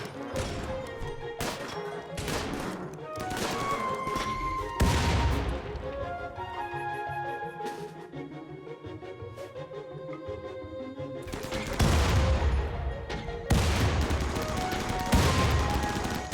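Gunfire and grenade blasts in the video game RimWorld as a caravan is hit, with rapid bursts of shots and several heavy explosions, loud and continuous over layered battle effects.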